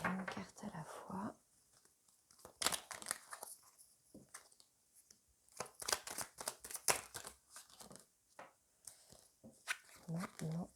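Tarot cards shuffled and drawn one at a time, giving soft, close riffling and flicking bursts in irregular clusters, with quiet whispered talk in between.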